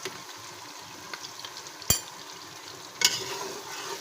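Cumin fries with garlic ginger paste in a pan, giving a low, steady sizzle with two sharp clinks of a spoon against the pan, heard close and without talk.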